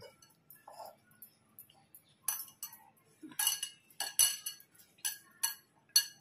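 Wheat flour being mixed by hand in a bowl with sugar, salt and cardamom powder into a dough, with a utensil clinking against the bowl in sparse, irregular taps that grow busier and louder.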